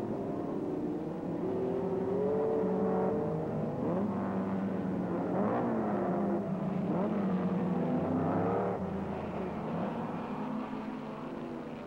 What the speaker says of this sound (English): he tries to take the green Lotus around the outside of Penske into the third corner, but has to drop back